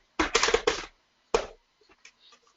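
Keys tapped on a calculator keypad: a quick run of about five crisp clicks, a short pause, one more firm press, then a few faint light taps, close and clear in a quiet room.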